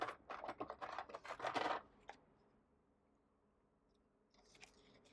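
Scissors snip through a paper journal page, a close burst of quick crunchy cuts for about two seconds, then near silence with a faint rustle at the end.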